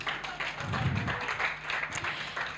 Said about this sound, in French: On va encore applaudir notre chanteur